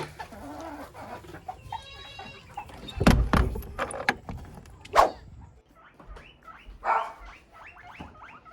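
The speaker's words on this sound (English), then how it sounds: "if you hear Elvis barking in the background" A dog barks a few times at a distance while chickens cluck and squawk nearby in a busy farmyard.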